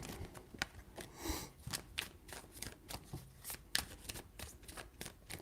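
A tarot deck is shuffled close up, a soft rapid riffling and flicking that repeats in quick bursts, quiet and steady with no talking.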